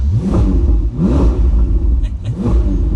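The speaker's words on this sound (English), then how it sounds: "It is time to fire this up, and this has a really good sounding exhaust, even just at the rev here." A Ferrari 488 Spider's exhaust revs sharply several times, loud and close, with deep rumbling surges rising and falling in quick succession.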